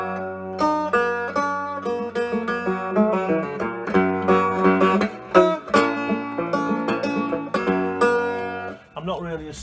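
Resonator cigar box guitar with a piezo pickup stuck to it, played with steady, ringing plucked notes and chords that sustain loud and clear throughout, ending in a brief scrape.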